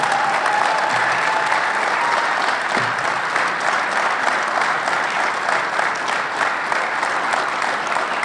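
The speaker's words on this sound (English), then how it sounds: "how about one last round of applause for all of our nominees here this evening?" At the 2018 Otto Graham award ceremony the audience gives a last sustained round of applause for the evening's nominees, a loud, full crowd clapping that continues unbroken and without talk.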